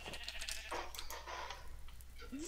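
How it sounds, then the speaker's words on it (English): A sheep roaming in a video game gives a few short, close bleats, loud against a quiet background, with a brief rising sound at the very end. "Why is there a sheep just roaming?"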